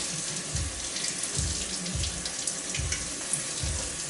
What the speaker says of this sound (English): Little strainer, running water,